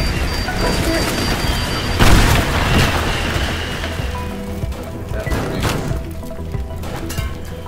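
A bomb blast tearing through a house in the video game Teardown: a heavy boom followed by a long, noisy wash of crumbling, splintering debris and rain-like rubble, loud and close.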